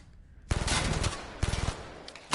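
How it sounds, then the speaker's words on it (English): A machine gun pistol fired without a silencer in the game Blood & Truth: two quick, loud bursts of rapid automatic shots, the first longer and the second shorter, close and sharp with a brief trailing echo. "have I showcased my shitty pistol without a silencer skill? I mean, machine gun pistol skills"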